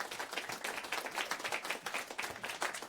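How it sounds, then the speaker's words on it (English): An audience in a radio studio applauds at a live performance, a dense, even patter of many hands clapping at moderate distance, steady for the whole stretch with no voices over it. "You should applaud that."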